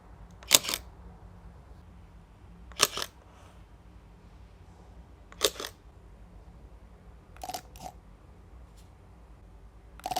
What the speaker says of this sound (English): If you need a quiet shutter, you'll prefer the M10-P.